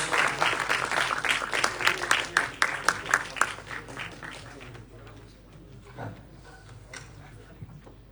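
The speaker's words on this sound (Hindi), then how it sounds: "can we have a huge round of applause, at least तालियां तो बज सकती हैं" Audience applause at a youth icon national award ceremony in Dehradun, Uttarakhand: dense clapping from a crowd, loud for about four seconds, then tapering to scattered claps and room murmur.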